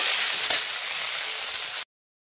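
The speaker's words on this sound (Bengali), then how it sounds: "ভেন্ডি গাজর আলু দিয়ে একটু ভাজা করে নিলাম খুব সুন্দর করে।" Okra, carrot and potato frying in hot oil in a home kitchen, a loud, dense, continuous sizzle with one brief stir, cutting off abruptly.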